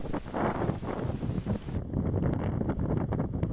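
Strong, unrelenting wind sweeps past a pond, roaring and buffeting the microphone in an unbroken rush with no let-up and no talk.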